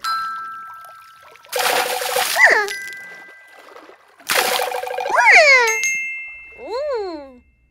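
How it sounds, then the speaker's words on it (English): Water splashes in a bath in two bright bursts, each topped by a ringing chime-like tone, with a softer tonal swoop at the end and near-silence between. "A bath is when you sit in a tub of water and wash yourself clean."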